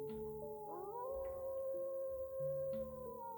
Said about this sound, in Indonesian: aku mendengar ada banyak banget suara lolongan anjing yang saling sahut menyahut